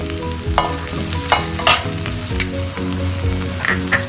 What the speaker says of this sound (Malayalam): വെളുത്തുള്ളിയും അരിഞ്ഞത് ഇട്ടിട്ട് ഒരു 2 മിനിറ്റ് ഇങ്ങനെ സോട്ട് ചെയ്താൽ മതി